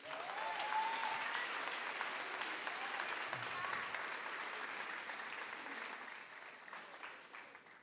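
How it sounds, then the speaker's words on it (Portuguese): A church congregation claps steadily and densely, a sustained wash of applause that fades slightly toward the end, with some voices faintly mixed in. "Dê um aplauso ao Senhor"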